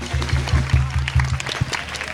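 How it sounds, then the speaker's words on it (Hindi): Audience clapping for art teachers at a school annual function, an uneven patter of claps under a low, regularly pulsing hum from the hall's sound system, moderately loud and fairly close. "वैसे इन सभी कला गुरु के लिए भी एक बार जोरदार तालियां हो जाए।"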